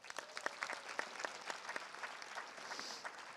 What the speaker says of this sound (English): Please join me in a round of applause to recognize Miss Snyder's hard work and dedication